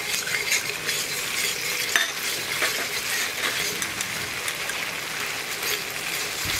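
Veg manchurian is stirred and fried in a pan with soy, red chili, tomato and green chili sauces and vinegar, village style. A continuous, close sizzle carries scraping stir strokes throughout, with no talking.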